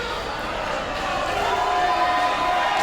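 A wrestling crowd cheers and roars steadily in the arena, a dense wash of voices sustained throughout, with a commentator talking over it.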